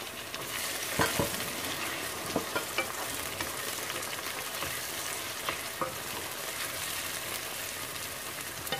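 Tomatoes frying with onions in a pan, a steady close sizzle like light rain, broken by a few soft clicks of stirring.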